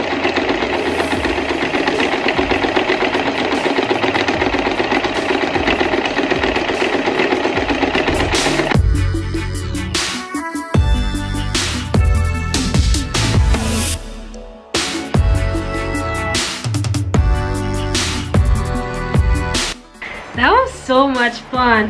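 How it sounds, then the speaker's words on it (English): A sewing machine quilts around the edges of fabric on a scrap patch basket, a steady mechanical whir that breaks into short start-stop bursts of stitching partway through. "it's time to quilt around the edges just to seal it in place."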